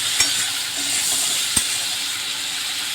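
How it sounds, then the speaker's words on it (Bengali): Prawns frying in a pan on a stove, a steady close sizzle with two brief clinks of a utensil against the pan. "চিংড়ি মাছটা ভাজা হচ্ছে"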